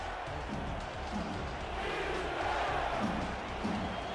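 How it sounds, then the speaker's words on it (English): A sellout stadium crowd at a Vancouver football game against Houston, a broad, sustained roar of cheering and noise heard from a distance, steady and moderately loud throughout. "Crowd on their feet."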